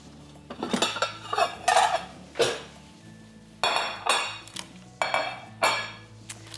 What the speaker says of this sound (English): So I'm going to get some plates for serving.